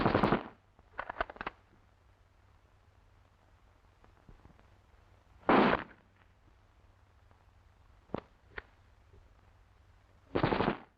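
Gunfire at a front line: sharp bursts and single cracks of weapons firing at irregular intervals, some rapid rattling volleys, some isolated shots, over a low steady hum with quiet stretches between.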